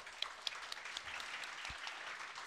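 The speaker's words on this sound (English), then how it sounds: "Give me applause." Applause from an audience at an economic policy event in Sweden, a steady, faint wash of clapping with a few sharper nearby claps, continuing throughout without speech.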